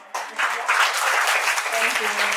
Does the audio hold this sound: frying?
no